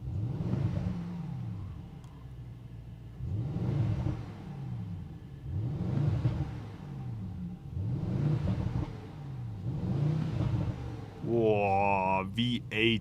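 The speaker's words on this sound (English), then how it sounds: "Whoa, V8 AMG Symphony." A Mercedes-AMG V8 in Sport Plus mode revs repeatedly, about six deep rumbling blips rising and falling in a steady rhythm from inside the car, ending with a sharper, higher rev sweep.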